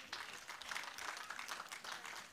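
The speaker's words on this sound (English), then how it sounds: "applaud the Lord" Congregation in a church applauding the Lord during a service, a steady wash of many hands clapping at moderate, fairly distant level, continuous throughout with no voices standing out.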